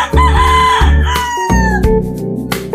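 A rooster of Golden Boy and Gilmore bloodline crows loudly and close at a brooder area, several long cock-a-doodle-doo calls rising and falling one after another.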